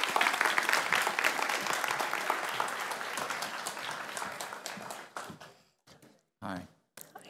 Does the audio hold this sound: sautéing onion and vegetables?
no